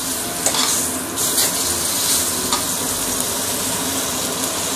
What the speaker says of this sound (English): So I'm going to pan fry this until it is a little bit golden brown outside